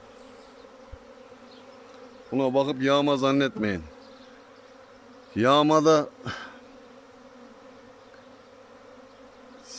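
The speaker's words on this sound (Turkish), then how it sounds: "Bu yavru uçuşu zaman zaman yapar arı." Honeybees buzz around a hive in two loud swelling bursts, a dense droning hum rising and falling, with a steady low hum beneath and brief talk.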